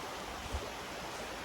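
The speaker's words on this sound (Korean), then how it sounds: "물소리 들리시죠?" Mountain valley stream in the upper gorge near Unmunsa temple in Cheongdo, with water flowing steadily in a continuous broadband rush, fairly close, with no voices.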